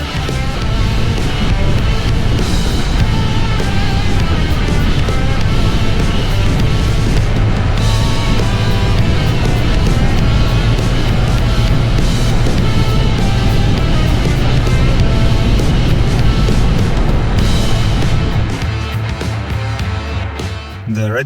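Several 110cc Honda Postie motorbikes, some stock and one heavily modified, riding together, giving a loud continuous engine drone with wind buffeting that holds steady before easing off near the end.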